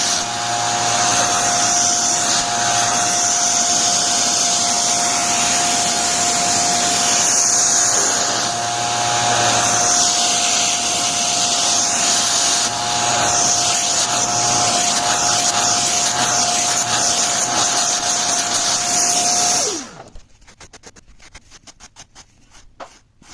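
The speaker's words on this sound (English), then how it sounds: "It sticks the hairs up and makes the cutting much easier for the machine." A fur-trimming machine with vacuum suction cutting fur to an even length, giving a loud, steady motor whine with a constant tone that runs for about twenty seconds, then cuts off abruptly, leaving faint rustles and clicks.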